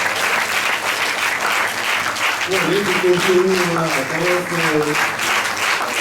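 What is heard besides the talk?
audience applause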